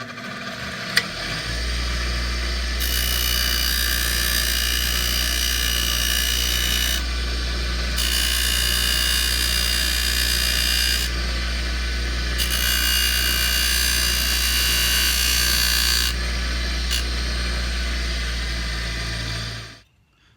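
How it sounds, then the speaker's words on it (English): A bench grinding wheel runs steadily while cigar box guitar fret ends are pressed against it in several grinding passes, each bursting into bright abrasive hiss over the motor's constant low hum before it winds down. "I do like to use this grinding wheel to take off the edges of my frets"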